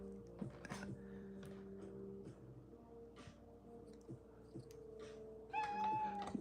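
A cat meows faintly several times, ending in a louder, rising cry; soft knocks and handling noises can be heard between the calls.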